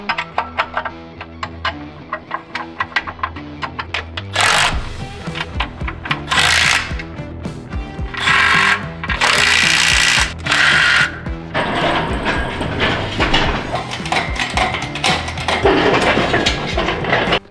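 Bolts are driven in with a power tool during a transmission install on a Ford Dentside truck with a Cummins engine, giving loud, rapid rattling bursts that start and stop repeatedly, close up with no speech.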